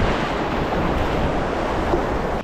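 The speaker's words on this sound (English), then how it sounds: "Keep getting these gusts." Steady roaring wind gusting outdoors on the River Dee in Scotland, a dense broadband rush with slight surges, loud and close, no voices.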